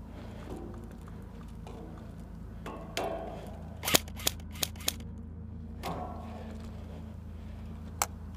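Airsoft guns in a backyard game: a handful of sharp, scattered pops, a quick burst of three or four then single shots, moderately close over low ambient hum and rustling.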